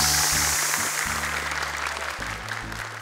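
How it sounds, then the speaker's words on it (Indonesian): A studio audience applauds four young contestants on a Quran memorization TV show, a steady round of clapping heard under a sustained musical backing tone throughout. "Boleh sekali lagi tepuk tangan untuk mereka berempat."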